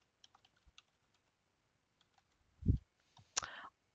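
A few soft, close computer keyboard keystrokes as a simple password is entered, sparse light taps followed by a couple of louder clacks near the end.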